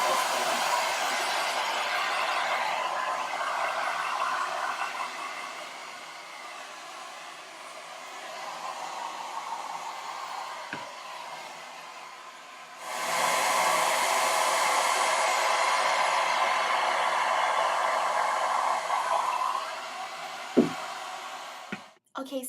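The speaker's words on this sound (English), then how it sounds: "And then I'm just going to go ahead and blow dry." A handheld blow dryer roars steadily while drying hair, with a brief pause partway through before the airflow resumes at full strength. It cuts off near the end with a few handling clicks, and no voices are heard.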